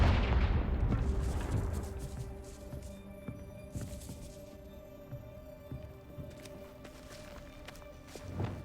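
A Confringo fire spell cast in Hogwarts Legacy bursts with a loud, deep blast right at the start, then rumbles away into quieter game ambience with scattered footsteps and soft thuds.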